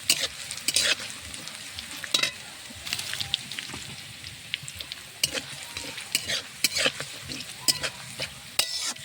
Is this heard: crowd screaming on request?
no